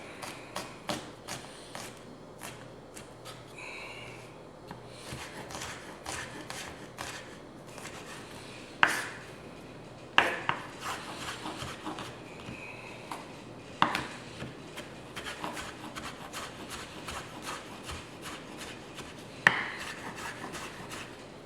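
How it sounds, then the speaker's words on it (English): Vegetables for shredded beef tacos being minced with a knife on a wooden cutting board: rapid, fairly quiet tapping chops in uneven bursts, with a few sharper knocks standing out and no talking. "Now we're just going to mince it up."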